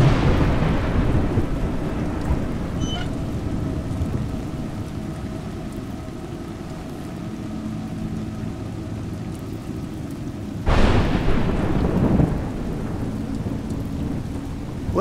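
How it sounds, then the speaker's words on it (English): Steady rain with rolling thunder in the video game A Juggler's Tale: a continuous hiss of rainfall over a low rumble, then a louder thunder crack swelling near the end. "It's raining."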